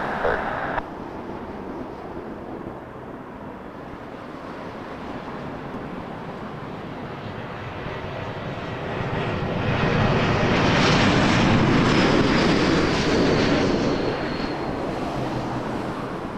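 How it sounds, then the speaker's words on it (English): A Boeing 787 Dreamliner jet at Toronto Pearson Airport, its broad engine roar building from a steady distant rumble to a louder swell as it passes nearer, then easing slightly, heard alone without talk. "Dreamliner in the golden hour"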